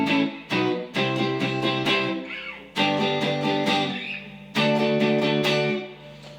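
Electric guitar strums barre chords, a rock riff with rhythmic chord stabs and short pauses, moderately loud and alone, with slightly overdriven tone.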